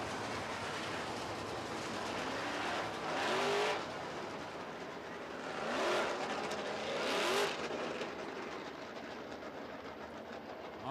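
Late model race cars roar around a dirt oval feature race, engines swelling past in several loud sweeps against a constant background roar of the field, with no voices over them.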